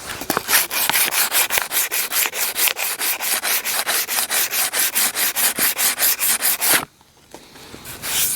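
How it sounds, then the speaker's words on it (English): Sandpaper rubs rhythmically along a wooden axe handle in quick, even back-and-forth strokes, loud and close, about thirty passes before a brief pause and one more stroke. "Gradually working down to finer and finer sandpaper."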